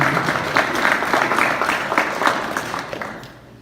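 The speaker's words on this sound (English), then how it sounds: "round of applause for these guys volunteering" An audience at a youth basketball coaches' meeting claps for volunteers, dense applause from a small crowd in a room that thins and fades out toward the end.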